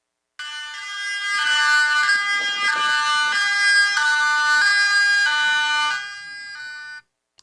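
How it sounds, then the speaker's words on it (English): A high-low evacuation siren is played back through speakers at a town hall meeting, a loud, steady alternating two-tone wail lasting about six seconds before cutting off. "The high-low siren."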